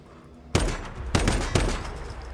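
Gunfire in the post-apocalyptic co-op shooter Once Human: three sharp shots about half a second apart, each trailing off in a short echoing decay over a low background hum.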